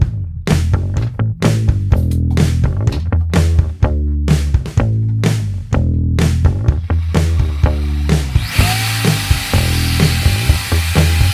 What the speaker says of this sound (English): We're going to cut 4 10-inch pieces of PVC now